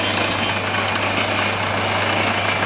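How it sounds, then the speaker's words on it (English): Water well drill rig reaming a borehole about 30 feet deep for 8-inch conductor pipe in Jamestown, Tuolumne County, California, a loud, continuous grinding and hammering drone with a steady low hum, heard alone. "So they're reaming it out down only about 30 feet."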